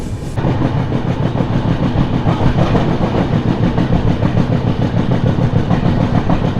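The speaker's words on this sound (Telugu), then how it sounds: "మన ట్రైన్ వచ్చేసి యలమంచి నుంచి అయితే బయలుదేరిపోయింది" Godavari SF Express rolling out of Yelamanchili, heard from inside: a loud, steady rumble with rhythmic clickety-clack of wheels on rail joints, continuous and close.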